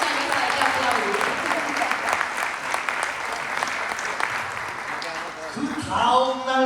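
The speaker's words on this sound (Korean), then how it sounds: "Acá tienen que aplaudir. Cuando escuchan eso hay que aplaudir." A large audience at a church conference applauds in a sustained, dense wash of clapping, loud and close, with a voice speaking over the end.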